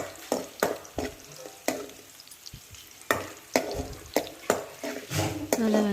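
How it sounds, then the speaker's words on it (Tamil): Garlic sautéing in a hot pan for a coriander-leaf dal masiyal, a steady frying sizzle broken by repeated sharp scrapes and knocks of a spoon stirring against the pan, close and fairly loud. "நல்லா வதக்கிக்கோங்க"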